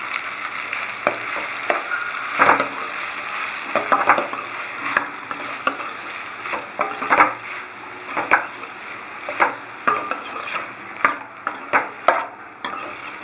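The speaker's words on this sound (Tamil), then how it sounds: "நாம் இதில் சின்ன சின்னதாக ஸ்மாஷ் பண்ணி வச்சுருக்கிற அந்த வெங்காயத்தையும் அதில் போட்டு நல்லா வதக்குறோம்." Onions sauté in a pan with okra and brinjal for a Tamil vathakulambu, a close, steady sizzle broken by repeated scraping stirs of a spoon against the pan.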